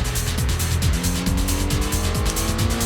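A racing car engine in Gran Turismo (1998, PlayStation) roars steadily, with rising and falling revs as it shifts through gears, loud and continuous with a synthetic, game-like tone.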